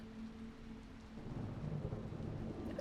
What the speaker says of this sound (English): You can still hear this storm picking up outside.